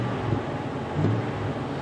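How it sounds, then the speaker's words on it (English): A car engine revving, heard from inside the closed cabin after a rusted exhaust flange repair; a low, muffled rumble that swells slightly once and stays fairly even, with no talk. "Here, I got the door closed and I'm revving it."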